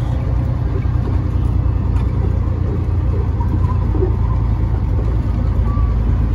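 A truck rumbles steadily as it pulls around a corner, a loud, continuous low engine drone that stays close throughout, with no voices.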